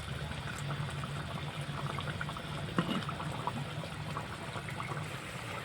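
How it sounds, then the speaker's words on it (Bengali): A hilsa fish curry boiling in a pan, a steady low simmer and bubbling with a faint background hiss and a single brief clink. "তো এখনো ফুটেই যাচ্ছে টকবক করে"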